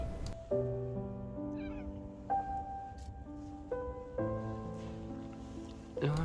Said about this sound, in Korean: 저를 기다리고 있던 고등어 냥이